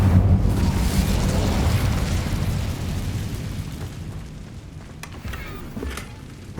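An Incendio fire spell cast in a video game: a loud whooshing, rumbling burst of flame that slowly fades, with a few faint crackles near the end.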